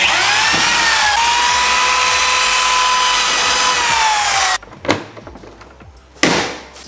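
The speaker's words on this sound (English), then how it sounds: "We drill holes how? With a drill." A power drill whines loudly and continuously while boring holes to mount fender flares on a Nissan S13, then cuts off, leaving a few short knocks and a final brief burst of noise.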